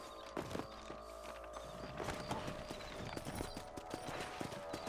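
Steady clip-clop of horse hooves trotting nearby in the video game Red Dead Redemption, an even rhythmic clatter over a low rumble, with faint creaks of tack.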